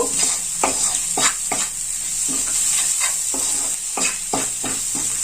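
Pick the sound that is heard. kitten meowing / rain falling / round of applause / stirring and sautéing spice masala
stirring and sautéing spice masala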